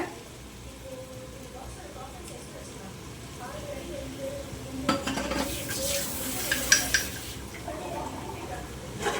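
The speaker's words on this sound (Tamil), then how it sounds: "இஞ்சி பேஸ்ட்டு நல்லா பச்சை வாசம் போகிற மாதிரி நல்லா வதங்கணும்" Ginger paste for chicken biryani is sautéed in a pan, with a steady soft sizzle and occasional stirring scrapes that swell into a louder hiss midway before easing off.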